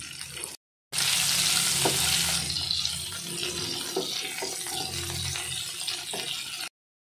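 Fish frying in hot oil, a loud, dense hiss and sizzle that surges after a brief gap, then settles into a steadier crackle with occasional pops.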